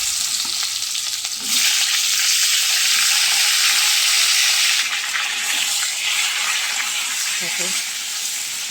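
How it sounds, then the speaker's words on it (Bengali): Potato and spiny gourd fry in hot oil with a loud, broad sizzle that swells as the pieces go in and then settles into a steady hiss; a voice speaks briefly over the frying. "এবারে তেলের মধ্যে আমি আলু আর কাঁকরোলটা ছেড়ে দেবো"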